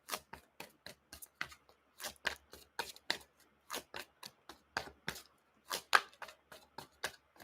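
Tarot cards shuffled in a steady, evenly spaced rhythm of soft slapping taps, about three per second, close and fairly quiet with no voices.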